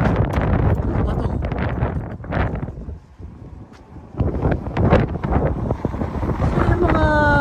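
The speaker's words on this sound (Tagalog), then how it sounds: "Mahangin sa labas. Lakas na mahangin, no?" Strong wind in a desert natural park with Joshua trees and cactus buffets the microphone in loud, rough gusts that ease into a brief lull midway before picking up again.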